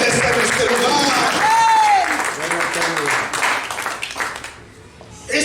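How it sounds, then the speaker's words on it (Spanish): Church congregation clapping as an offering of praise to Christ, loud continuous applause with voices calling out over it, fading toward the end. "Dale una ofrenda de palmas a Cristo, hermano"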